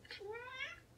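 A tuxedo kitten gives one clear, rising-then-falling meow, close and fairly loud, preceded by a brief higher squeak against a quiet indoor background.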